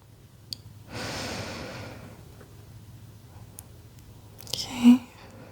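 Slow, deep breathing during a relaxing ASMR yoga twist stretch: one long, soft airy breath rises and fades near the mic, then a shorter exhale follows near the end, with quiet room hush between.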